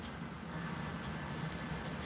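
A temperature gauge device used in ghost hunting, similar to a K2 meter, emits a steady high electronic alarm beep that starts abruptly and continues with brief dips, close and clear over a quiet room.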